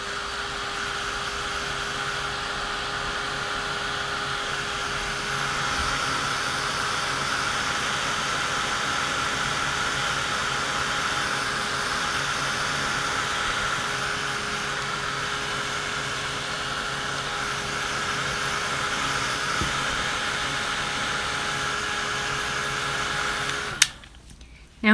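A craft heat tool blows steadily for about twenty-four seconds, drying Dina Wakley Media Gloss spray on paper, a loud even whooshing hum before it clicks off abruptly near the end.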